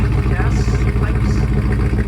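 A 1968 Mercury Cougar with a Pypes exhaust and muffler idles close by, its deep, throaty exhaust pulsing in a low, steady rumble. A voice may be talking over it.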